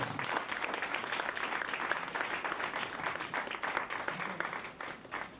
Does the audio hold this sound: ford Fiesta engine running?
no